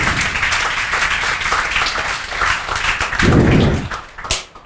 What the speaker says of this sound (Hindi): जम के तालियां बजाओ